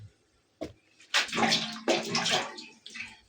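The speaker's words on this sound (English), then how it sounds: "So the work of this water here is to cool the hands, because it's always hot." Hands dipped and swished in a bowl of water to cool them while squeezing hot cooked cassava, sloshing in several close splashy bursts with a sharp knock near the start.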